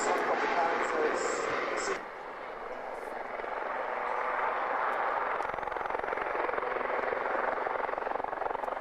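A naval helicopter lifting off from a ship's deck, its dense rotor and turbine roar sustained and loud across the whole stretch, briefly dipping then building again, with someone talking over it.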